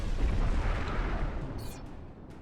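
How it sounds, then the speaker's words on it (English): Artillery firing in the video game Forged Alliance Forever, a deep rumbling boom that rolls and slowly fades, followed by a couple of short higher whooshes near the end, with no voice over it. "Now I'm shooting the artillery over here"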